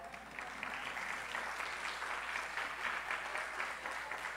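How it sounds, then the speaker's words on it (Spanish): Faint, steady applause from an audience at a live event, honoring a dancer in traditional Sanjuanero Huilense costume, a continuous patter of clapping heard at a distance with no voices. "Un aplauso para ella."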